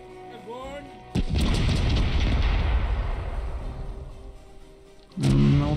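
Cannon shots fire from a ship in the pirate video game Corsairs Legacy. Two heavy booms, the first trailing a long rumbling decay and the second cut short, come after a brief stretch of someone talking.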